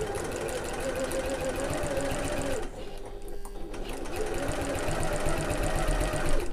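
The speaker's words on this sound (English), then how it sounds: "I'm going to back stitch at the start and the end of this stitching" A sewing machine back stitches through the lining layers of a backpack, running a fast steady mechanical chatter close up, with a brief slowdown partway through before it resumes at full pace.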